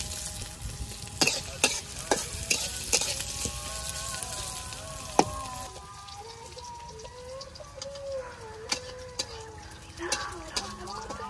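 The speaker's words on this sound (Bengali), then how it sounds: "পেঁয়াজ কাঁচামরিচটা হালকা করে ভেজে নিই।" Chopped onions and green chilies fry in oil in a kadai in a village kitchen, giving a soft, steady sizzle with regular stirring clatters. Birds chirp and call in the background through most of the scene.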